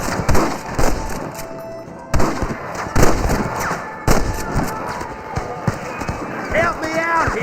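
Red Dead Redemption shootout with repeated gunshots cracking over galloping hooves and busy action noise, while characters shout and talk throughout.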